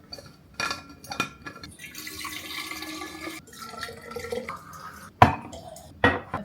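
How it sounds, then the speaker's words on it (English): Water runs into water bottles in a few separate pours, a gurgling, hissing stream between quieter pauses, with sharp plastic clicks and knocks close by and no talking. "I filled up water bottles."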